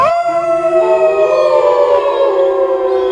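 Two wolves howl loudly toward the sky in an animated Hindi bedtime story: sustained, overlapping wavering howls that rise and hold, loud and continuous throughout, with no talking.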